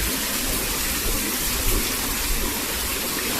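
River water rushes steadily past a turning water wheel in the Porter Valley, a loud, continuous broadband roar with no pauses or voices.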